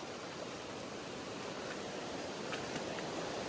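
Steady broadband rush of flowing water in a jungle at Chitrakoot, a continuous wash of noise holding at even strength throughout with no voices over it.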